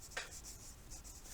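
A pen writing a paragraph proof by hand for a geometry lesson, a close, steady scratching with short repeated strokes and no talking.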